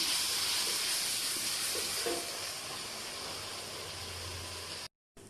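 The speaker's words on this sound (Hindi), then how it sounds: "और 5 मिनट के लिए भूनूंगी।" Ginger garlic paste frying in a pan gives a steady, even sizzling hiss that continues on its own at a moderate level and then stops abruptly near the end.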